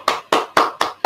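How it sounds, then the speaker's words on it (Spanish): Hands clap after a conference talk, five crisp, close claps in a steady, evenly spaced rhythm, with no other sound between them. "Vamos a aplaudirlo."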